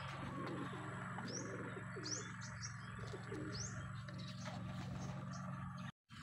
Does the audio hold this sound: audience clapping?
no